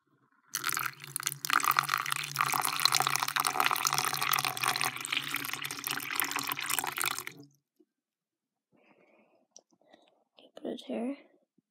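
Water pours steadily for about seven seconds while pet tarantulas are watered, a close, bright splashing stream that stops abruptly. Quiet clicks follow, then a brief soft voice.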